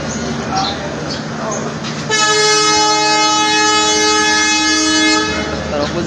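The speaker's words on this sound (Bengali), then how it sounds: "সাইডে যে কাঞ্চন কমিউটার রয়েছে সেটি ছেড়ে যাচ্ছে" At Pirganj railway station, a Kanchan Commuter train pulls out with a long, loud horn blast that sounds steadily for about three seconds, following a stretch of station noise and low rumble.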